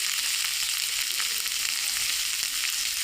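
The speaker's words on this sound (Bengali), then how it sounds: "গাজরটা একটু হালকা করে ভেজে নেব" Carrot pieces frying in a pan with onion for a village-style vegetable pulao, a continuous bright sizzle, close and steady with no talking.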